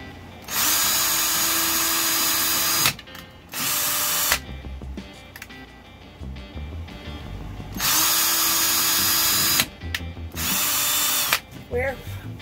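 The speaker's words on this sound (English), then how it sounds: "I'm just going to drill" A power drill whirs in several bursts of a few seconds each, with pauses between, close and loud, a voice speaking briefly in the gaps.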